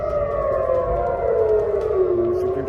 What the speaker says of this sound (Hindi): तेल अवीव के कई शहरों में हवाई हमलों के सायरन बजने लगे।